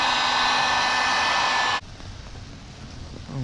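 Heat gun or hair dryer warming a faded car headlight: a loud, steady broadband blowing roar that cuts off abruptly partway through, leaving quiet room sound and a brief voice at the end.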